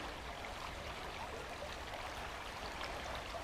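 Water sloshes steadily in a gold pan as small waves are made to wash light sand away, a continuous close washing, rushing sound with no talk over it.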